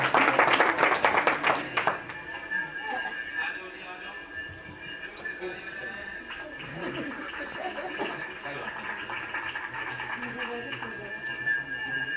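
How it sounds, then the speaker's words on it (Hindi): A crowd claps loudly at first, then the applause thins into scattered clapping mixed with voices and room noise. "जोर से ताली बजाएं परमेश्वर के लिए।"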